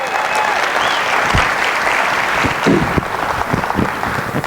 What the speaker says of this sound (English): Can we give Joe another round of applause?